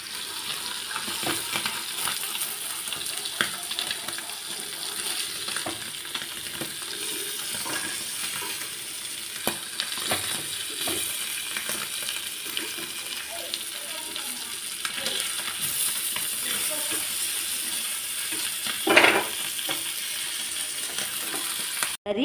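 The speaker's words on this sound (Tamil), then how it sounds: "6 மீன் 5 மீன் தான் வறுக்கிறேன்," Fish fry on a dosa griddle with a steady, dense hiss and crackle of oil throughout, close and moderately loud, with scattered pops and a brief louder burst near the end.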